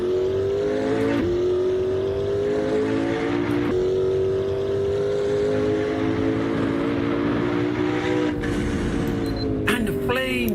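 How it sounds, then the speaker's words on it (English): The turbocharged car engine in the racing game Assetto Corsa drones steadily at sustained revs, then a sharp hissing burst near the end suggests the blow-off valve. "Listen to that turbo, that blow-off valve."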